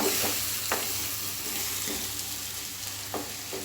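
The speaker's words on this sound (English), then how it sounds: "now we have to saute for 2-3 minutes" Paste sautéing in a pan for a pumpkin, peas and potato curry gives a steady low sizzle with soft scraping stirs recurring every second or so, close by and with no voices.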